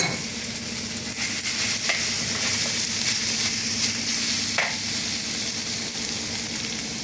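Steady sizzling of lamb fat melting in a hot pan, a constant crackling hiss with occasional sharper pops, close and even throughout.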